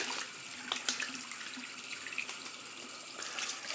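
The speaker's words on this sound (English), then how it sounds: "I'm just going to wet my face." Water runs steadily from a bathroom tap into a sink while a face is wetted before a shave, a close, continuous hiss broken by small splashes, with no voices.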